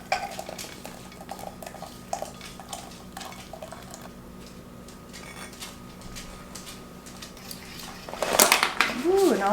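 Metal baking pan clattering against a kitchen counter while a Postum cake batter with melted butter is being mixed, a few knocks and scrapes amid soft kitchen clatter, ending in a louder burst of handling.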